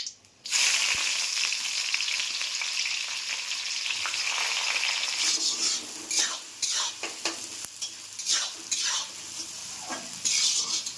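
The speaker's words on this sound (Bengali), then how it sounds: "পেঁয়াজগুলো লাল লাল করে ভেজে নিয়েছি" Chopped onions frying in a pan, a continuous close sizzle with repeated spoon-stirring scrapes growing busier toward the end, no voices.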